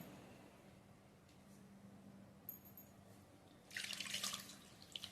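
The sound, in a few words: chilled water poured over paneer in cloth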